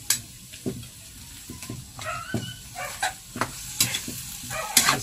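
Stingray with black beans fries in cooking oil while being stirred, giving a continuous sizzle broken by repeated scraping and knocking strokes of a utensil against the pan, close and fairly loud.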